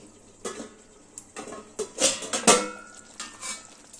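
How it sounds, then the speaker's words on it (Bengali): A metal lid comes off a kadai of hilsa paturi cooking on a low gas flame, giving a few clanks and scrapes of metal on metal, the loudest bursts in the middle, close by and with no talk. "দশ মিনিট হয়ে গেছে আমি ঢাকাটা খুলে দিচ্ছি"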